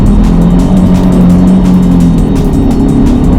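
Ford Mustang at full throttle on a test drive, a loud, close, sustained engine drone with a steady low hum throughout, no speech.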